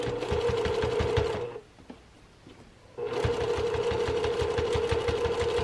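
A sewing machine runs along the top seam of a lined tote bag: a loud, even mechanical whir, then a brief silent pause, then another long steady run.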